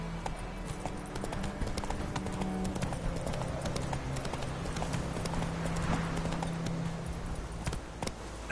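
Steady horse hoof clip-clop from The Witcher 3, a continuous rhythmic walking gait at moderate volume over a low ambient game hum.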